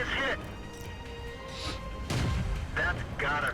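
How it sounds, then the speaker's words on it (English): Tank cannon fire in World of Tanks, several sharp booming shots spaced irregularly across a few seconds, each a short crashing blast, with someone talking between them. "T-3485 is now shooting at the T1 Heavy, who's come up to support me"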